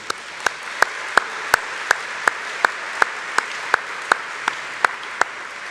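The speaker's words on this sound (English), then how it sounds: "How about that round of applause for that group?" A single person's sharp hand claps ring out at a hall of fame induction ceremony, about fifteen evenly spaced strokes over a faint background hiss of the hall.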